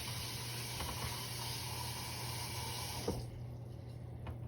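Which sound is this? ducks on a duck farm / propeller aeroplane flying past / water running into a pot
water running into a pot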